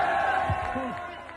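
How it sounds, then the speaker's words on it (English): Farmers cheering at a protest in Paris, a short burst of crowd shouts and whoops rising over a dense, steady murmur of many voices. "Farmers cheer"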